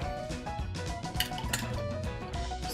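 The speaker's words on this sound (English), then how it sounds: "Give it a nice stir." A drink of coffee or espresso topped with tonic water being stirred in a glass, with steady clinks and scrapes of a spoon against the glass close by.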